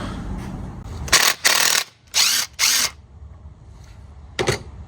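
Power tool, likely an impact or drill, spins out an intake manifold bolt on a Mercury Grand Marquis 4.6L engine: four short loud bursts in two pairs, then a brief final burst, close up with quiet gaps and no talk.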